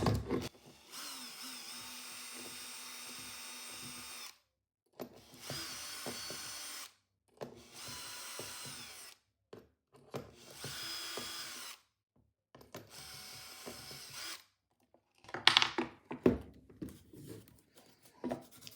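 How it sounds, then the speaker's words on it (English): A power drill whirs in repeated bursts of several seconds each, re-drilling shelf pin holes in wood, separated by short pauses, ending with scattered clunks and handling noises. "you can push it back into the first hole or one of the other holes and re-drill out your holes."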